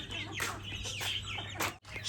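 Chickens cluck and squawk nearby in short repeated bursts, with a steady low hum running underneath and a brief cut near the end.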